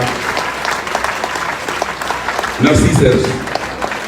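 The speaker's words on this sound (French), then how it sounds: "Il faut l'applaudir jusqu'à ce qu'il arrive ici," A crowd at a political rally bursts into applause and cheering partway through, loud and sustained after someone speaks briefly over background crowd noise.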